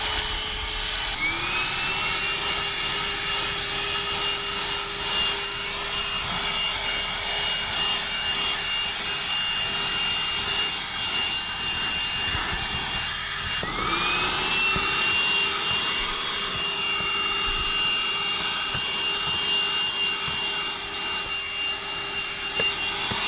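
A high-power 5000Pa handheld car vacuum cleaner runs as a loud, steady, close whine with a high motor tone. It spins up twice, once near the start and again midway, and no one speaks.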